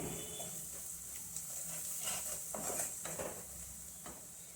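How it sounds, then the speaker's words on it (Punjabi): Turmeric powder and ground spices being stirred in a pan over a low gas flame for an aloo methi sabzi, with a soft steady sizzle and faint scraping strokes of the spoon throughout. "ਅੱਧਾ ਚਮਚਾ ਹਲਦੀ ਪਾਊਡਰ ਤੇ ਮਸਾਲਿਆਂ ਨੂੰ ਮਿਕਸ ਕਰ ਦਵਾਂਗੇ ਇੱਥੇ ਗੈਸ ਦਾ ਫਲੇਮ ਮੈਂ ਲੋ ਹੀ ਰੱਖਿਆ ਸੀ"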